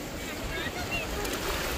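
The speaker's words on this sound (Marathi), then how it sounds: "हे सुद्धा लाटा मोठ्या आहेत." Sea waves wash ashore at Alibaug beach in a steady broadband roar, with wind buffeting the microphone throughout and faint voices now and then.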